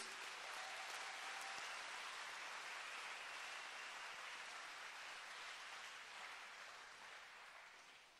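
Church camp session audience applauding loudly and continuously, a dense wash of clapping that holds steady and slowly fades toward the end, with no talking over it.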